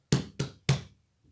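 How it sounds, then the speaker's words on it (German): Three sharp, evenly spaced knocks on a door, close and loud, followed by a much fainter tap after a short pause. "wir klopfen mal direkt"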